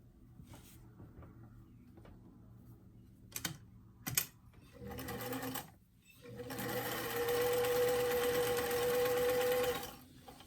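A sewing machine stitches a dart on a small doll dress, a steady whirring run of several seconds preceded by a few clicks and handling noises.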